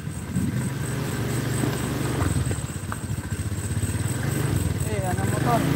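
A motorcycle engine rumbles steadily nearby, passing on a road beside a cemetery at night, with a continuous mid-pitched drone and people chatting over it.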